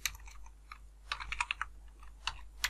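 Fingers type on a computer keyboard in a quiet room, irregular clusters of sharp, close clicks and key taps with short pauses between bursts.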